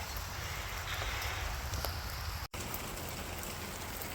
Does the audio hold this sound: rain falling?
yes